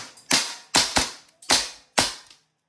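A WE Airsoft 1911 Type A gas blowback pistol fires five sharp, close shots in quick uneven succession, each a crisp snap of the cycling slide, with no talk.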